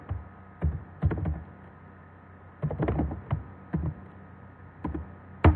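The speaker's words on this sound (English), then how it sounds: "hit enter. Indent 2 spaces and type the following code." Code typed on a computer keyboard, with short clustered bursts of key taps separated by pauses, close and clear with no talking.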